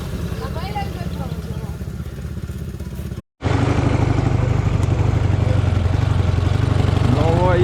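A Dnepr MT-11 motorcycle engine chugs loudly and steadily while riding off-road, with a brief dropout midway and rattling, thumping chassis clatter under it.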